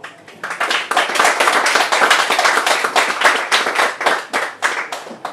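Lecture audience applauding at the end of a talk on global land use, dense steady clapping from many hands filling the hall, close and loud, holding for several seconds before thinning out slightly at the end.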